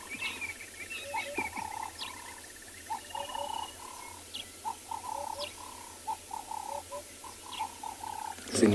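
Doves coo in a repeated rhythmic series with other birds calling in the South African bush on a morning safari; the calls are moderately near and steady, with no talking.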